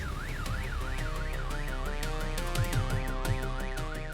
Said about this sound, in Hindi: मैंने रास्ते पर से एक लड़के को पैसे दिए कि वो सुरभि की कार का अलार्म ट्रिगर कर दे।